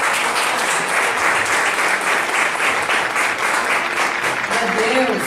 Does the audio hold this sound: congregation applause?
yes